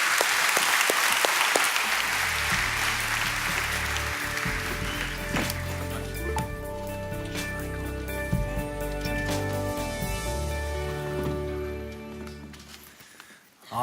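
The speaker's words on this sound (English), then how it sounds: "giving our panel a huge round of applause as they come up" A crowd applauds loudly and continuously, the clapping gradually thinning and fading toward the end.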